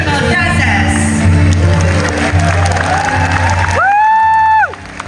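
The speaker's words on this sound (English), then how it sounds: "round of applause for the dancers who shared with us the richness of Indonesia traditional dances" A student audience applauds and cheers for traditional Indonesian dancers at a cultural show, a loud sustained burst of clapping with whoops and shouts that cuts off abruptly near the end, followed by a brief sung or called tone.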